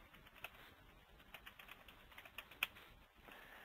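A command being typed on a computer keyboard, a quiet run of light, irregular key taps with one sharper press near the end, close by and without talk.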